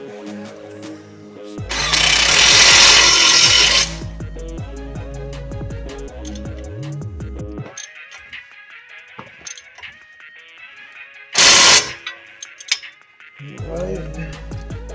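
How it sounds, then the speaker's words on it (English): Impact wrench snugging down a nut on a Ford Fiesta lower control arm, one loud two-second rattling burst and then a shorter sharp burst later, with clinking tools and workshop noise in between. "We just need our impact. We'll go ahead and snug it down."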